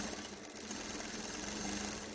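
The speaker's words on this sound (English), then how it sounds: "I'm sewing the casing now." A sewing machine runs continuously, stitching the elastic casing of a multicoloured tutu skirt with a fast, even mechanical whir and rattle, close and steady throughout.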